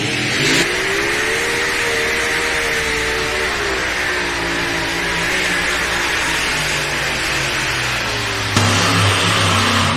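John Deere 9200 pulling tractor roaring down the track at a truck and tractor pull, its loud sustained engine drone holding steady with a slowly shifting pitch, then a sharp surge in power near the end, no voices.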